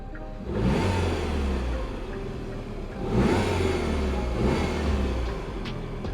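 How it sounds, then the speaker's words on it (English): A car engine revs up three times, each surge swelling loudly and then easing back to idle, close by and without speech. "So if I rev the car,"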